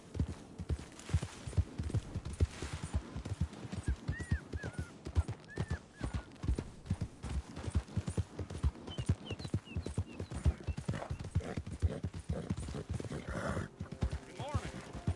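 Horse hooves clip-clopping in Red Dead Redemption 2, a close, steady rhythmic beat of hoofsteps running throughout, with occasional voices speaking over it.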